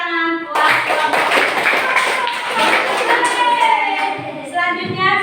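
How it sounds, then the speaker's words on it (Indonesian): Audience applause for a student group in a classroom session, a steady burst of clapping lasting several seconds with a voice heard over it near the start. "kasih tepuk tangan buat kelompok"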